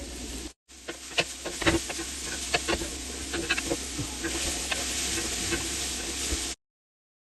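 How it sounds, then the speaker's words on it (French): Chopped garlic and onion sweat in olive oil in a pot, giving a steady soft sizzle with scattered small pops and crackles, heard close and alone before cutting to silence near the end. "Et là maintenant on va faire suer l'ail et l'oignon."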